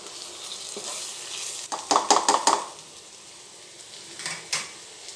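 Vangi bath, brinjal rice, is stirred in a frying pan after its lid plate comes off: a quick run of four or five sharp scraping clinks from a spoon against the metal pan over a soft sizzle, followed by a single later clink.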